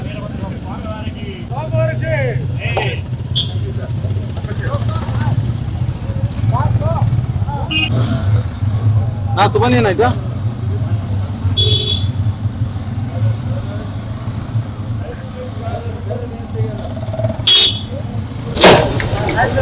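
Traffic police two-wheelers idle and rev with a steady low engine rumble throughout, as the motors start and ride off in an outdoor street scene, under scattered voices talking and occasional sharp horn-like tones.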